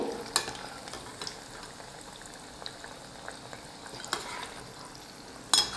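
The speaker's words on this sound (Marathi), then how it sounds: "आता याला आपल्याला लाईट गोल्डन कलर येईपर्यंत तळायचं आहे" Paneer cubes frying in hot oil toward light golden for restaurant-style chilli paneer, a steady bubbling sizzle with a few sharp spoon clinks and stirs, close and without talk.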